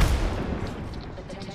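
A frag grenade bursts in the Apex Legends video game as a loud, close boom at the very start, then its rumble decays over about a second and a half with faint gunfire behind.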